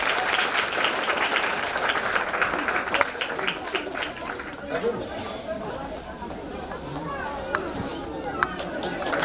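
An audience at a church service claps steadily to welcome guests, a dense and continuous patter of many hands with chatter mixed in throughout.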